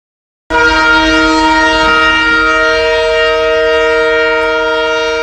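Horn of the Amritsar–Bikaner Superfast Express departing Moga station: one loud, sustained, close blast that starts abruptly and holds steady for about five seconds.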